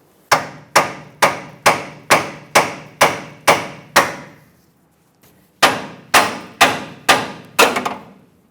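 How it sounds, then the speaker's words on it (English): A hammer pounds the pitman arm joint on a 2003-2009 Dodge Ram 2500 to break it free: nine loud, evenly spaced metal strikes, a short pause, then six more in quick succession, close and ringing. "You can hit this with a hammer. Hopefully it breaks free within a couple of hits."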